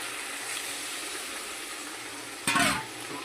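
Water splashes into a pan of sizzling colocasia greens cooked with gondhoraj lemon and chickpeas, a brief hissing gush about two-thirds through over a steady low frying sizzle.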